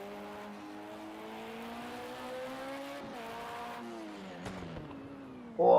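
An LMP2 race car in a racing video game at the Hockenheim circuit drones past with a steady engine tone that shifts pitch as it goes by. A louder burst cuts in at the very end.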